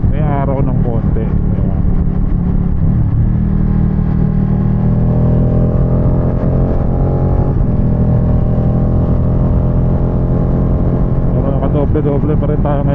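A Ducati Panigale 959 Corse motorcycle rides on a cold road, its engine loud and close with a steady rumble, gear shifts and rising revving harmonics, heavy wind buffeting throughout and a voice talking over it.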